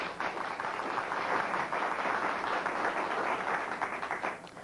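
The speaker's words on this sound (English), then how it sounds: "Let's give him a big round of applause" Studio audience at a television talk show claps in welcome, a full, even round of applause lasting the whole span and easing off slightly at the end.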